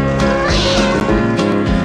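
A kitten meows loudly and up close in a repeated, drawn-out plaintive series, with no speech.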